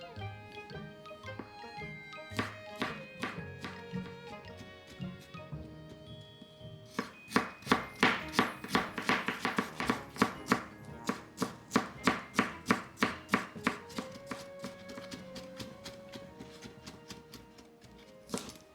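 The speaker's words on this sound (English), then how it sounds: "Finely chop the garlic and ginger as well." A knife finely chops garlic and ginger on a board while Mapo tofu is being prepared, first in scattered cuts and then in fast, even, close knocks, with music playing underneath.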